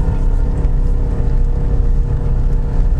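A 4x4 with locked differential, in second low gear, pushes through very dense snow during a blizzard; the engine drones loud and steady under strain, with a constant low rumble and no voices.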